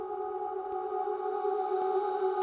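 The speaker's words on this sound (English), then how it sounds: "I also added another free plugin called Valhalla Supermassive, which is a really cool reverb delay." An ambient lofi vocal drenched in Valhalla Supermassive reverb delay, held as a steady sustained tone with a long washed-out tail, sitting softly in the background with no talking.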